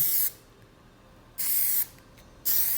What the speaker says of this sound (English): I'm right here spraying it